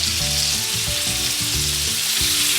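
Prawns frying in melted butter make a loud, steady, dense sizzle that holds evenly from start to finish, with no voices over it.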